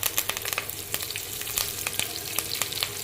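Curry leaves crackle and sizzle in hot oil for semiya upma, a close, continuous spitting fry with sharp pops scattered throughout.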